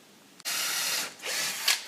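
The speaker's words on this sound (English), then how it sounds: "I like to pre-drill with the right size drill bit, of course, for the fixing into Jarrah" A power drill bores pilot holes into Jarrah hardwood, a sudden loud whirring burst that dips briefly and resumes with a straining grind, close up with no talking.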